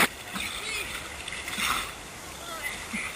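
Racers plunge into a cold river during an expedition race crossing in Patagonia, with continuous nearby splashing and sloshing of rushing water and no talk.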